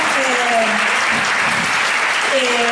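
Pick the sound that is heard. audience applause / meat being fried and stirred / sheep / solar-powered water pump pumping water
audience applause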